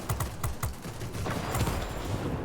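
Rapid aircraft gunfire from a warplane in the World of Warplanes video game, a dense clattering stream of shots over a steady engine drone, loud and close, with no talking.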